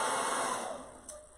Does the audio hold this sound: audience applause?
no